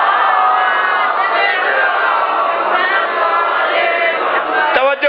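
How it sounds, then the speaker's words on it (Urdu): A large crowd at a religious gathering loudly recites salawat in unison, a dense, sustained roar of many voices that stays loud throughout, with a brief sharp knock near the end. "سلوات مل کے بلند آواز سے پڑھ دیجیے گا"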